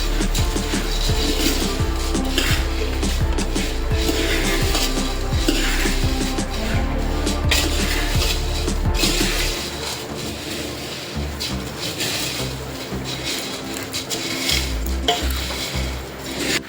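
Food being mixed in a pot or bowl, with close, continuous scraping and clinking of a utensil against the vessel over a low rumble that drops away halfway through.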